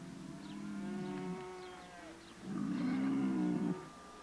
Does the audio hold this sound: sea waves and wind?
no